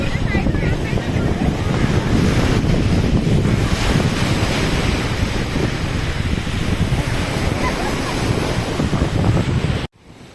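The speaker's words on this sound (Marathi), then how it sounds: "किती जोराने वारं सुटत आहे लाटा येत आहेत भरती चढत आहे" Strong wind roars across the microphone over steady crashing sea waves at a shoreline during a rising tide, loud and continuous for about ten seconds before cutting off abruptly near the end.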